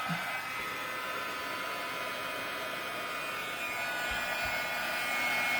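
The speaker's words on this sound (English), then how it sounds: "I need the heat tool, and I apologize for the sound. This one is noisy." A noisy craft heat tool blows hot air in a steady, continuous whooshing roar, close and alone for several seconds without talk.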